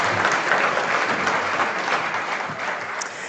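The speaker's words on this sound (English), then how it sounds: "Let's give them another round of applause" A conference audience gives the panelists and moderator another round of applause, a steady even wash of clapping from a large crowd that fades slightly toward the end.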